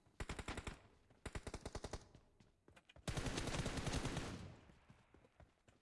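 Gunfire in PUBG Mobile: rapid bursts of automatic shots in close succession, two short volleys then a longer sustained burst, loud and near with no talk.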